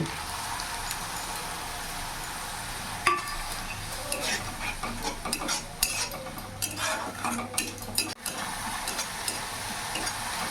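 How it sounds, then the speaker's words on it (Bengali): A spice paste with Kashmiri chilli powder fries and sizzles in a pan while a spatula stirs and scrapes it, giving bursts of clattering metal contact over a constant hiss; no voices. "মশলাটা বেশ ভাজা ভাজা হয়ে গেছে"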